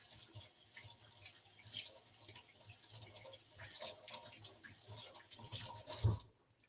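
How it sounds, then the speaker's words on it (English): Running tap water splashes over hands being rinsed at a sink, a steady close wash with a few brief splashy bursts and a sharp clatter before the flow cuts off near the end. "Let me rinse off my hands"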